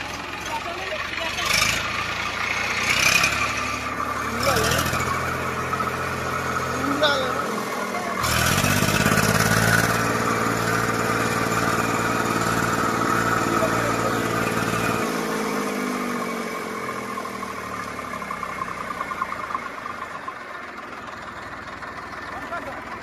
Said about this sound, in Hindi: ये ट्रैक्टर है आइसर का 333 और इसके डीजल टैंक में फंस चुका है कचड़ा जो कि ये बराबर रेस नहीं पाता है और अलग तरीके का आवाज़ करता है